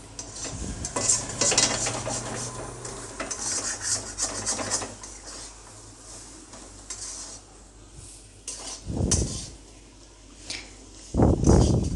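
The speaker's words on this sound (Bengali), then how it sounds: "ডালটি ভাজার সময় নাড়াতে থাকতে হবে, নয়তো ধরে যাবে।" Dal being stirred as it fries in a pan, with a spoon scraping and clattering against the metal in bursts over a faint sizzle, no talk.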